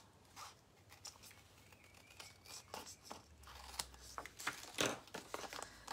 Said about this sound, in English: And then you just trim around the edge.